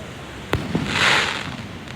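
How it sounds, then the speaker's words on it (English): Bigger, pricier fireworks burst over Kuta Beach at night: a sharp crack, a second lighter pop, then a broad crackling hiss as the shell spreads, set against a constant outdoor rumble. "Those are some nice fireworks tonight."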